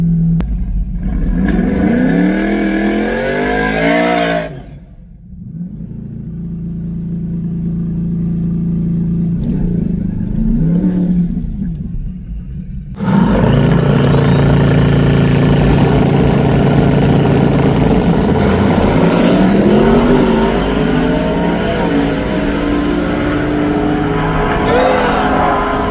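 A twin-turbo Corvette E-Ray at a no-prep drag race in Texas rumbles loud and close, idling, then revving in rising surges with a short lull before a long, sustained roaring pull.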